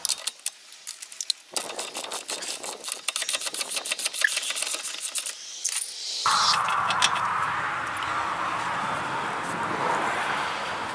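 A 30mm nylock hub nut being worked off the rear hub of a Renault Clio, a rapid series of close metallic clicks and ratcheting taps that gives way to a steadier scraping, grinding rasp.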